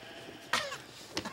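Sheep giving two short bleats, the first louder and wavering, the second briefer, close by against a faint background.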